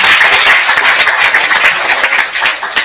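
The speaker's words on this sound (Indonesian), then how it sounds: "Tepuk tangan dulu buat dia ini" An audience claps loudly and continuously, a close, dense patter of many hands with no voices over it, tapering slightly toward the end.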